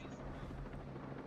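A scout drone plane flies overhead in the video game Ghost Recon Breakpoint, a constant low propeller drone that stays faint and steady under a speaking voice.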